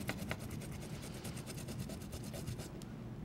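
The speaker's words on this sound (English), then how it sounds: "You just run the ginger over the top of that" Fresh ginger is rubbed over the sharp bumps of a porcelain ginger grater, making soft, quick, rhythmic rasping strokes. The scraping is faint but steady and close, with no talk.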